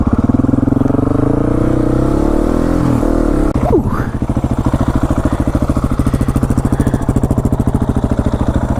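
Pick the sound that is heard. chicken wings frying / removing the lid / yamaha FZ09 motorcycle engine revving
yamaha FZ09 motorcycle engine revving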